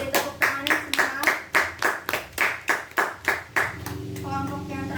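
A class claps hands in a school micro-teaching session, a steady run of about a dozen loud, evenly spaced claps in unison, then fading into murmur and a voice.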